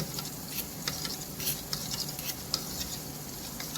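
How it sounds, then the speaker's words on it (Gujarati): Onion and tomato masala sautéing in a pan, a steady soft sizzle with faint stirring scrapes and light pops running throughout, fairly quiet and close. "સાતળવા મૂક્યું છે ડુંગળી ટામેટાની"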